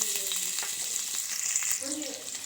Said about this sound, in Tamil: எண்ணெய் காஞ்சிருச்சு இப்போது ஒரு அஞ்சாறு வெள்ளைப்பூடு தட்டி வச்சுருக்கு அதை உள்ளே போட்டுடலாம்